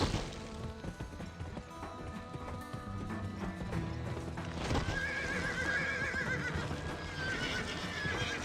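A horse in a video game whinnies loudly over rapid clip-clopping hooves, with dense game sound effects and music layered underneath.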